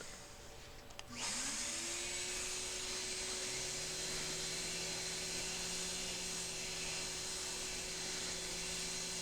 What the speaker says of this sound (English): I give both sides a quick sanding with an orbital sander